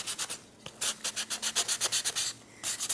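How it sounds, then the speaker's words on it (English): Sandpaper rubs along the edge of a wood block where glued paper meets the wood, a quick rhythmic series of close, raspy back-and-forth strokes with a brief pause midway. "Just sanding right on the edge where the paper finishes and the wood block finishes"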